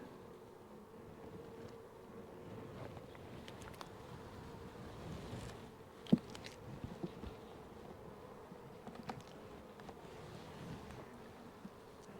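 Honeybees hum in a faint, steady drone around an open hive during an inspection, with a few soft clicks and knocks of handling above the buzz.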